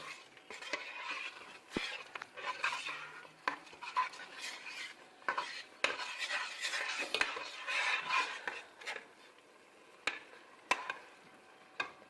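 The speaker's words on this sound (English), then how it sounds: "Mix it so they both fry together." Ingredients for a spaghetti sauce are stirred in a pan, with irregular scraping and clinking of a utensil over a faint frying hiss, close and moderately quiet.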